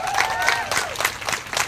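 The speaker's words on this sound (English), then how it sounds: "I want to give a big round of applause to the Youth Build students of UCC" Audience applause at a community event in Newark, a short burst of clapping from a crowd indoors, moderately loud with a few voices mixed in.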